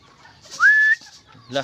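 A single bird at a pigeon loft gives one brief, clear high call, close by, with faint background sounds before and after.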